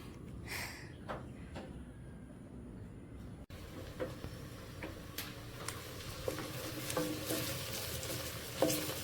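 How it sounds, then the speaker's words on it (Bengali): Chopped onions frying in mustard oil give a faint, steady sizzle with scattered ticks and scrapes of stirring, quiet and close, with no voices. "এখানে তেল দিয়ে নিয়েছি সরিষার তেলই ইউজ করি তারপর পেঁয়াজ কুচি দিয়েছি"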